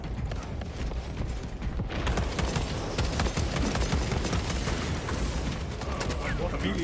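Dense, continuous gunfire from a gun in the Warhammer 40K game Space Marine 2 fills the whole stretch as rapid overlapping shots with mechanical clatter, loud and close throughout.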